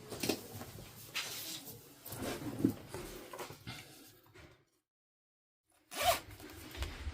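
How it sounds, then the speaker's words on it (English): A metal zipper pull threaded onto a zipper gusset while sewing a bag, giving repeated close zipping and rattling scrapes, then a short silence before a final sharp burst. "Go ahead and thread your zipper pull on."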